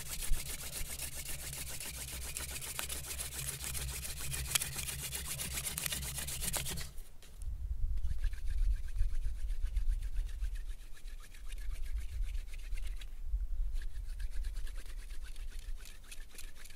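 A wooden spindle is twisted against a board for a friction fire, starting slowly to build up dust: a close, continuous rapid scraping and rubbing that shifts to a deeper, rougher grind partway through.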